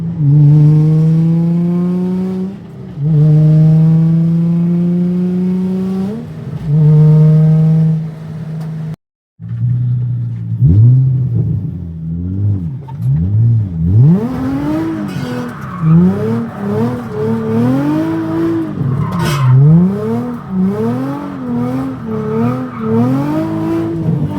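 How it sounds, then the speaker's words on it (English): A newly bought drift car is pushed on a test run, its engine close and loud, revving up and down in repeated surging sweeps with a brief cut near the middle and hints of tire squeal. "We're gonna give this car a little test rip for Joe."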